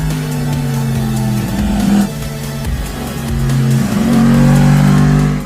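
A Yamaha MT-10 motorcycle with a 1000cc cross-plane crank engine revving loudly and close, its pitch rising and falling through several throttle blips over a steady idle-like drone.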